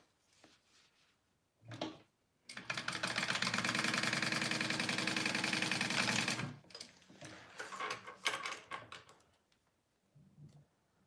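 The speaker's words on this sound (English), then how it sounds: "now I'm going to just top stitch all of my card slots" A sewing machine top-stitches the card slots of a handmade H2O 2GO sling, running in one loud, steady, buzzing stretch of about four seconds, with soft handling knocks and rustles before and after.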